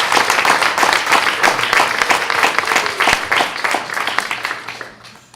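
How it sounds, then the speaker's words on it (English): Sustained applause from an audience at a school board of education meeting honoring students, dense clapping filling the room at steady volume before tapering off at the end. "So could we get a round of applause for them?"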